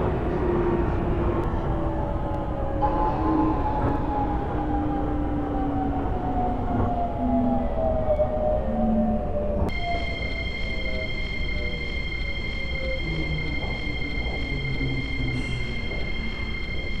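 A subway train on Seoul Metro Line 1 toward Hanam hums and rumbles steadily as it runs, with a sliding tonal whine of the motors and a sharp change to a higher electric drone partway as it departs.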